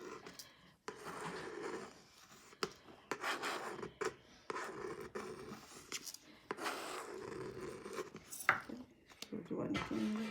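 A spatula scrapes excess icing off a white cake in short, soft rasping strokes with brief pauses between them, heard close and quiet while a person talks.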